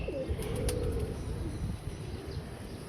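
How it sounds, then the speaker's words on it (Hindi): Pigeon cooing nearby, a soft low throaty call over outdoor background noise, with faint chirps from other birds, and no one talking. "ये आ रहा है कबूतर।"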